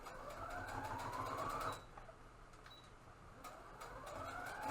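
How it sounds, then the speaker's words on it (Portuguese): A sewing machine runs a straight seam on a fabric mask, whirring steadily at close range, pausing briefly partway through and then starting up again. "vou pra máquina e passo uma costura reta"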